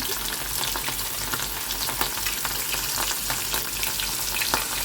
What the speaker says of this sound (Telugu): అదిగోండి ఆయిల్లో ఫ్రై చేసేస్తున్నాము.